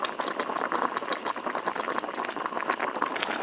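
Braised pork trotters in a pot of sauce spiced with star anise, cinnamon, bay leaf and tsaoko bubble steadily as the liquid reduces, a dense, close and continuous simmer with no talking.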